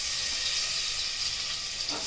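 Crushed ginger, garlic and fennel seeds hit hot oil for a beef curry, giving a steady, close, bright sizzle that holds at an even level throughout without a pause.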